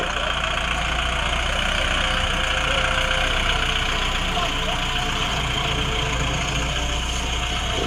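A tractor engine runs steadily throughout, a continuous low idling rumble with a faint knocking texture, close and constant.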